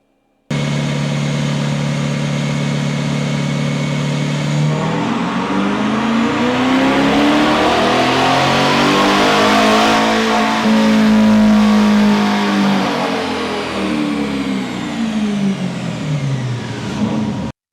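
A Chevrolet Corvette C8 V8 runs on a dyno, loud and close, climbing steadily from idle through a long rising sweep of revs, peaking then easing back before cutting off abruptly.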